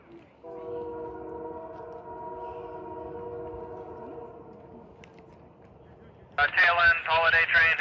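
A CPKC holiday train passes on the tracks, its horn holding steady multi-tone chords for several seconds before fading. A louder, brighter horn blast then bursts in near the end over a rumbling background.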